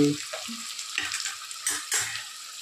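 Onions and green chillies are stirred in a frying pan for a goat head, brain and legs dish, giving a bright sizzle broken by several scraping stirs and soft clatters of the spoon against the pan.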